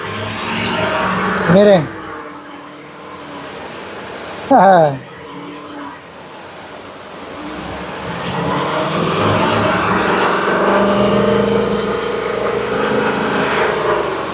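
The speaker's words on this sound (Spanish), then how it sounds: "Voy a acelerar a 2000 RPM, 2500 RPM." A car engine with a cylinder 2 misfire gives two short revving blips, then climbs into a sustained higher-rpm rev of about 2000 to 2500. Someone speaks briefly over it.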